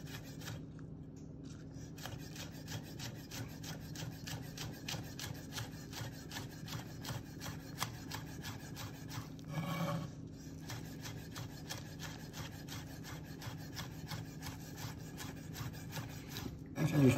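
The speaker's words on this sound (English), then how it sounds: "I'm just going to sort of finely chop those, put those in the dressing." A knife chops garden onions finely on a board, giving a fast, steady run of close, crisp taps that continue for many seconds with only a brief break.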